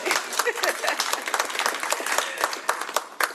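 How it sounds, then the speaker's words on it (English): Audience at a Washington State Juneteenth celebration giving a round of applause, crisp individual claps fairly close, moderately loud and irregular, with some overlapping voices in the crowd. "Thank you for that round of applause."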